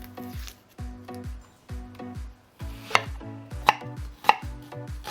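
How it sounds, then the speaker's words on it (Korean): A knife finely chops an onion on a cutting board in quick bursts of several strokes, close and fairly quiet, with a few sharper knocks. "양파는 껍질을 벗기고 반 개를 잘게 다져주세요."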